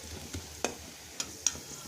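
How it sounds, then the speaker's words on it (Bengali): Onions fry quietly in a pan for fish curry, a soft sizzle under a few sharp scrapes and taps of a spoon stirring against the pan. "পেঁয়াজটা ভেজে নিচ্ছি।"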